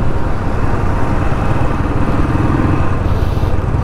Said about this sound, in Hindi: आगे हार्ले डेविडसन जा रही है,